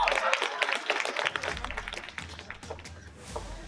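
An audience claps for the third-place winner at a student hackathon, a dense, steady patter of many hands in a room that slowly thins and fades toward the end.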